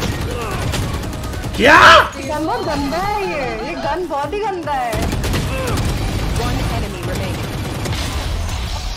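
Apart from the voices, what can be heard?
gunfire in the video game Valorant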